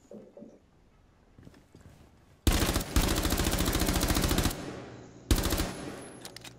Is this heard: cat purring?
no